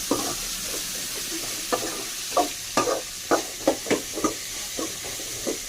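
Drumstick curry is stirred in a pan over a steady hiss of cooking, with a spoon scraping in a series of distinct strokes, close and clear with no voices.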